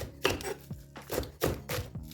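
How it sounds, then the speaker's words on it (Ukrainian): Knife chopping a white onion on a board, a few quick cuts in short bursts at close range, no talking. "Я її нарізаю, можна використати будь-яку білу цибулю"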